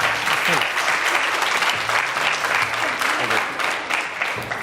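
Studio audience applause on a Ramadan television show, a dense, steady roar of clapping that stays loud and continuous throughout with no gaps.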